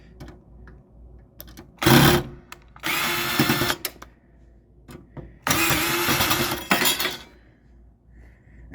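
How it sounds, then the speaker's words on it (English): A power drill whirs in short loud bursts, three runs separated by quiet pauses, backing the cover screws out of a GE Hotpoint PTAC unit. "First thing we need to do is take these two screws out right here and here and remove this cover."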